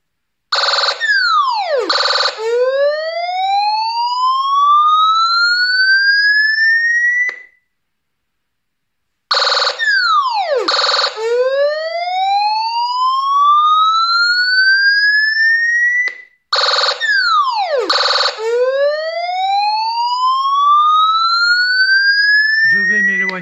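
A homemade electronic scarer box in forced mode blares its siren loudly and close: three repeating cycles of rapid warbling chirps that sweep upward into long rising wails, with a short silence between cycles.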